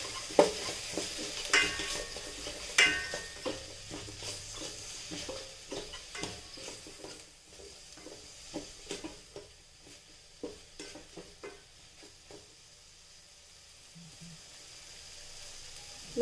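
Capsicum stir-frying in an electric cooker: a continuous soft sizzle with repeated scraping and stirring clicks from a spatula, close and fairly quiet, no talking.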